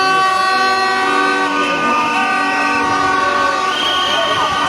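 Horns blare at a street protest march in Batumi, several sustained, loud tones overlapping and holding steady throughout, close by and without pause.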